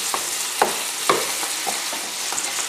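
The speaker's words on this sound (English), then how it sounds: "I'm turning the sausages." Sausages frying in a pan are turned over, a continuous sizzle broken by several sharp scraping clicks of the utensil, close and moderately loud, without talking.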